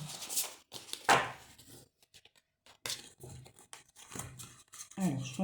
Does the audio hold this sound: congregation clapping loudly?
no